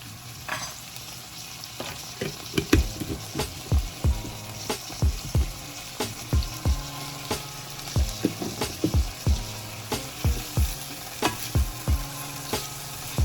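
Minced garlic sizzling in hot oil for Jamaican curry steam fish, a continuous sizzle with a regular run of spoon strokes against the pot, about one every half second, close and clear.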